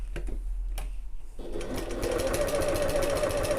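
Sewing machine stitching stabilizer onto a bag panel: a few soft clicks and a short pause, then a fast, steady, close whirring run of stitches that continues to the end.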